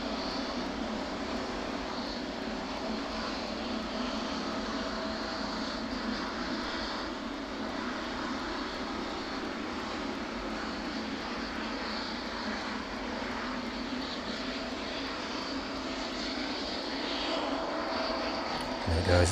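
Aircraft taxiing at East Midlands Airport in the evening, on a short hop to Leipzig, its engines giving a steady, moderately loud drone that holds for the whole stretch without pause.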